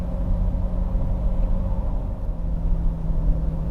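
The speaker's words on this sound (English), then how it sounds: "you can hear the exhaust note, you can hear the motor revving up" A deep 2020 Chevrolet C8 Corvette mid-engine rumble drones steadily from inside the car, a low exhaust note holding fairly constant with slight swells.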